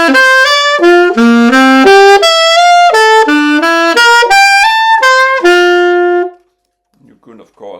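A brass instrument plays Bach-style triad patterns in a steady flowing run of arpeggiated notes, loud and close, stepping up and down through the chords before stopping, followed by faint rustling.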